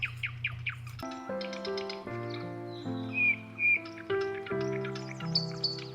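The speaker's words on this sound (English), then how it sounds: "These birds are only found on the island of Kauai and only found back in the Alakai swamp." Native forest birds found only in the Alakai swamp on Kauai, Hawaii, calling near a mountain stream: a chorus of clear whistles and chirps, with several sharp repeated notes at first and then overlapping phrases throughout.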